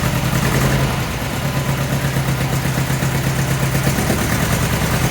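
An MGB sports car engine runs steadily in gear with a low, even drone and a constant hum throughout, close and fairly loud, with no voices.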